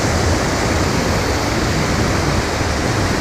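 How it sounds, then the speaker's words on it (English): A creek pours over a small waterfall in a steady, loud, broadband rush of falling water, close by and continuous, with no voices over it. "This water just drops."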